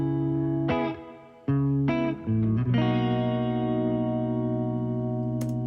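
Electric guitar chords with a second layered guitar widening the sound, processed with distortion, chorus and reverb, ringing sustained notes after a few strummed changes, with no talk over it.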